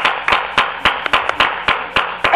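A church congregation at a night service applauding, a short burst of sharp claps in an uneven rhythm, close and fairly loud, the claps arriving in quick separate bursts rather than a dense roar.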